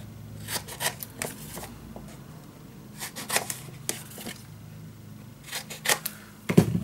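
Scissors snip the corners of paper for a Roaring Twenties scrapbook mini album in a box: a scattered series of short, crisp cuts and light paper rustles, close and fairly quiet.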